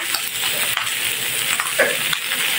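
Pork browning in a frying pan, giving off a steady, close sizzle and crackle that runs unbroken throughout, with a few brief stir scrapes.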